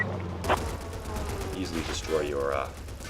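Anti-tank gunfire from the strategy video game Men of War, a WWII battle between UK and German forces, with a sharp shot early on and another about two seconds later amid rumbling game sounds and a voice.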